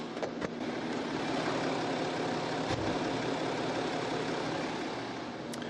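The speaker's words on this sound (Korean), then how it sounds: "절대 느낄 수 없는 (535D에서만) 들으실 수 있는 엔진 소음 만나보실 수가 있는 차량입니다" A BMW 535d diesel engine runs steadily at idle with the bonnet open, a smooth, close, constant low hum with no talk over it.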